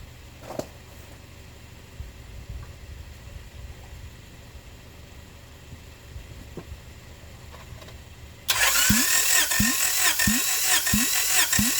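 A car engine cranks during a cylinder compression test after a new head gasket, the starter churning loudly in a steady rhythmic pulse for a few seconds after a quiet stretch of faint background noise.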